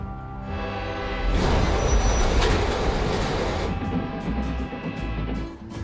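A 1930s Pullman sleeper train rumbles past at close range, a steady heavy roar with rattling, rising sharply after a second and staying loud to the end.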